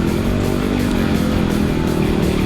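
Dirt bikes, including a Yamaha WR250R, KTM and Husqvarna, racing through the bush, a steady droning engine roar close by, loud and unbroken for a couple of seconds.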